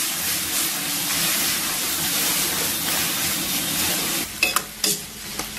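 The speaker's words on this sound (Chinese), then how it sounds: "这快手菜讲究就是速度，再给它捡回来，就是大火爆炒" Pork, eggs and vegetables are stir-fried in a wok over high heat, giving a loud continuous sizzle and hiss, with a few sharp scraping clatters of the spatula near the end.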